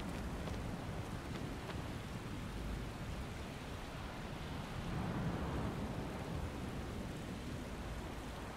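Rain and a thunderstorm rumble through the PS4 Pro version of the video game Shadow of the Colossus. Steady, dense rainfall hisses throughout at a soft level, with low thunder rolling underneath and no voices.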